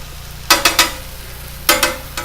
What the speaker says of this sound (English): Alright, peppers and onions are getting cooked pretty good.